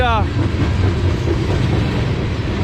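A train rumbles past nearby in Hyde Park, Pennsylvania, with a steady, heavy roar and faint rail clatter, drowning out the surroundings.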